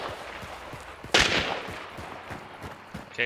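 Gunshots ring out in the first-person shooter Hunt: Showdown, with one loud, sharp blast followed by a decaying echo and a few fainter cracks afterward amid low background rumble.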